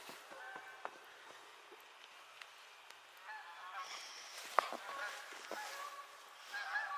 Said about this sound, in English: Oh, you hear the geese?